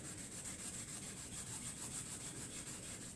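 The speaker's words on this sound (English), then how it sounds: "And now I do my final rub out." Steady, continuous rubbing of chromatic harmonica parts during a final rub-out while airtightening a Kettlewell chromatic harmonica, a close, even scrubbing texture with a faint periodic pulse and no speech.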